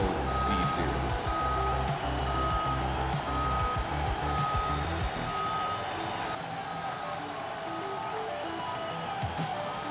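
A WL40 loader with a claw attachment lifts a full-size pickup truck at a machinery show, its engine rumbling low and steady under a repeating reverse-alarm beep.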